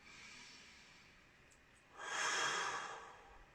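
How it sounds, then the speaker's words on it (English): A deep, drawn-out breath during a guided shamanic meditation circle, a soft broad inhale-exhale swelling up about halfway through after quiet room tone, close and alone with no talking. "Just deepen that breath down to your belly."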